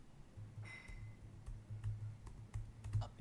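Computer keyboard keys clacking while code is typed, scattered light taps close by over a low hum, quiet, with no speech.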